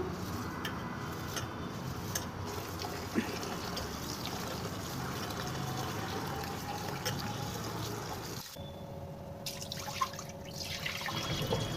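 Water sloshes and trickles in a bowl as raw white rice is swirled and rinsed, with soft splashes and drips close by.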